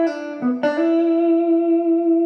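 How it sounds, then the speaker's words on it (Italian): A short electric guitar blues lick rings out alone: a couple of quick picked notes with a bend, then a sustained note that holds and slowly fades. "Il fraseggio che porteremo a spasso suona così."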